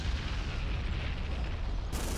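A warship cannon in a video game fires a heavy, sustained boom that rumbles steadily, loud and close, then cuts off abruptly near the end.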